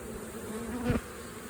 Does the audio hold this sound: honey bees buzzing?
yes